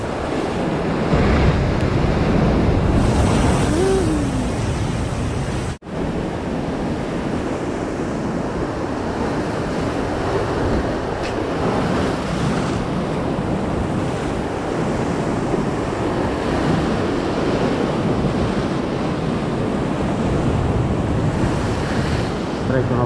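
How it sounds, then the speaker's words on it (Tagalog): Strong surf crashes continuously against the shore at high tide on a Palawan coast, a loud, dense wash of breaking waves with heavy wind buffeting the microphone throughout. "Grabe alon."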